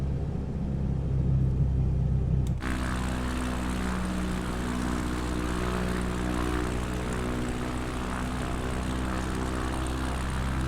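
A propeller bush plane in a flight simulator game, flying through bad weather: a steady droning engine rumble with a whirring prop tone that kicks in abruptly after a quieter opening, continuous and close, no talk.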